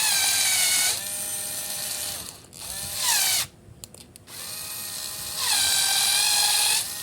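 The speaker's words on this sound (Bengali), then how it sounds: "এটি চাপলে স্ক্রু হেডটি ঘুরতে থাকে প্রচন্ড শক্তি নিয়ে" A cheap 4.2V cordless screwdriver drill spins its screw head in several close, loud bursts. Its high motor whine rises and falls in pitch as it speeds up and slows, with a short quiet gap in the middle.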